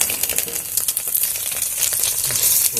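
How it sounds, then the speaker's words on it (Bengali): Paneer pieces frying in hot oil in a pan, giving a loud, steady crackling sizzle with dense spitting pops throughout and no voices. "এখানে তেলটাও গরম হয়ে গেছে এবার পনিরগুলো আমি একটু ভেজে নেবো"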